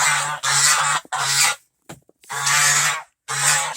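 Geese honk loudly and close by in a pen built from recycled pallets on a snowy day, several harsh drawn-out calls in bursts separated by short silences.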